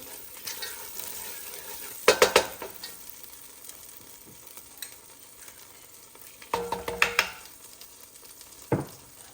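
Food fries in bacon grease in a pot for beef stew, a steady close sizzle broken by several loud bursts of spoon stirring and scraping against the metal.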